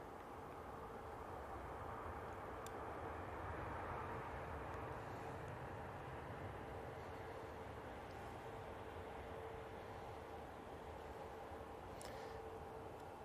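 A plane arriving at Manchester Airport gives a steady, distant jet roar that holds at an even level throughout, with a faint tonal whine over the low rumble and no talking.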